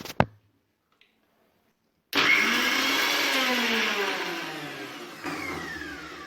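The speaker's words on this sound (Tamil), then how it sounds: "அதில் கொஞ்சம் போல் பொட்டுக்கல்லையும் 2 ஏலக்காயும் சேர்த்துட்டு மிக்ஸி ஜார் இது பண்ணிவிட்டு மிக்ஸி ரன் பண்ணிக்கோ" A mixer grinder runs loud and steady for about four seconds, grinding roasted gram with two cardamom pods, its motor whine easing slightly near the end.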